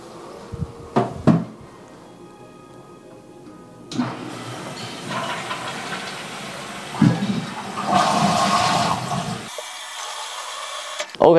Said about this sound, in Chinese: 那就给大家看看它怎么冲马桶哦。